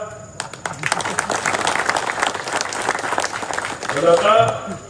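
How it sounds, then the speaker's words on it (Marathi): Audience at a political rally in Maharashtra clapping, a dense steady patter across the whole stretch with a speaking voice rising over it near the end. "प्रामाणिकपणे, टाळ्या वाजवा"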